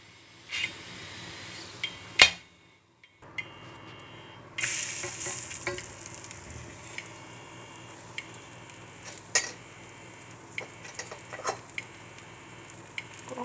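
Pearl millet chapati cooking on a hot pan, with a soft steady sizzle and occasional stirring or tapping sounds, dropping out briefly before a louder burst of sizzling returns and carries on.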